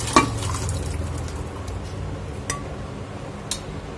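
A spoon stirs cooked rajma into masala sizzling in oil in a pan, with faint frying hiss and a few sharp clinks against the pot.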